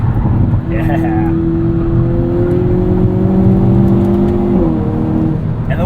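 A 2022 Hyundai Kona N with an electronic front differential accelerates out of a corner, its engine a loud, steady drone that rises in pitch, with a voice talking over it.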